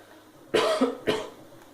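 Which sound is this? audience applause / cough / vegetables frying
cough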